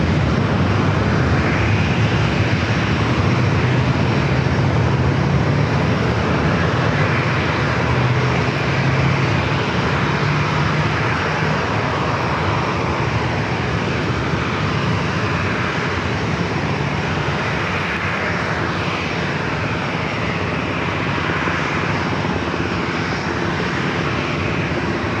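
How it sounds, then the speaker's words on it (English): A departing airliner bound for Charlotte rolls down runway 27 at San Diego airport, its jet engines a loud, steady broadband roar that holds for the whole stretch with no talk over it. "Off to Charlotte, now rolling down at runway 27."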